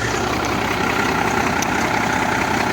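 A MAN D0826 diesel engine fitted in a T-150 tractor idles, a steady, loud, close mechanical drone with an even rumble and no pauses throughout.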